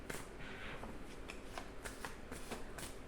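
Oracle cards being shuffled close up, a quiet run of soft riffling flicks and slaps repeating every half second or so.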